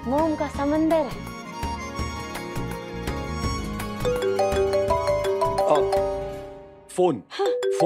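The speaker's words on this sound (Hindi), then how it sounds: "फोन फोन आ गया।" A phone ringtone plays a melodic repeating chime that sounds for several seconds and then cuts off abruptly, with voices talking over and around it.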